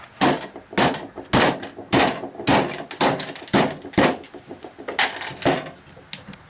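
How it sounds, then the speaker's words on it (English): A hammer knocks wooden pieces out against a stop board while building a porch swing, giving a steady series of about fifteen loud, hollow, woody thunks close by, with no talk. "I'll butt this to our stop board, and then I'll knock these pieces out"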